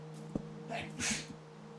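A single sharp sneeze bursts out mid-stream over a steady electrical hum, followed by a brief breathy exhale, close and fairly quiet.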